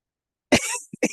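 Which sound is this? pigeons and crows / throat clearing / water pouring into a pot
throat clearing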